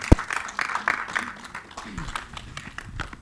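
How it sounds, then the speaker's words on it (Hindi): At a Bollywood film music celebration, a crowd applauds the actor Harshvardhan with scattered, fairly soft clapping heard at a distance, a sharp close knock near the start and faint voices underneath. "लेडीज एंड जेंटलमैन, हर्षवर्धन के लिए जोरदार तालियां हो जाए।"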